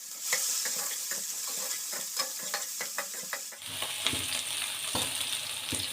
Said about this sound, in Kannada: ಸಾಸಿವೆ ಹಾಕ್ಕೋತಾ ಇದ್ದೀನಿ. ಹಾಗೆ 1 ಸ್ಪೂನ್ ಜೀರಿಗೆ, ಈರುಳ್ಳಿ ಹಾಕ್ಕೋತಾ ಇದ್ದೀನಿ.